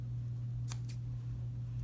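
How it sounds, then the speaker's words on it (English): Scissors give two quick, crisp snips trimming ribbon ends on a handmade gift box, close and quiet over a low steady hum. "I'll just go ahead and snip those ends"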